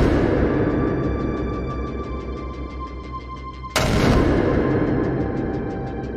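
Cannon fire in an official salute welcoming a ship carrying an exile to England, heard as one sudden loud boom over a dense rumbling background.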